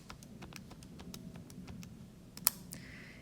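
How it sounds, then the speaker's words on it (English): Plastic calculator keys pressed one after another in a quick, irregular run of light clicks, with one sharper tap near the end, close and fairly quiet over a faint background hum. "I'm gonna type all this in my calculator"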